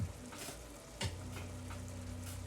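Spaghetti meat sauce frying in olive oil, sizzling steadily with a couple of stirring scrapes near the start and middle, close and alone.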